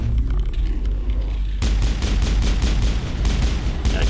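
A Singularity biotic power unleashed in the video game Mass Effect: a low, muffled rumble gives way to a loud burst of booming impacts and crackling blasts that continue to the end.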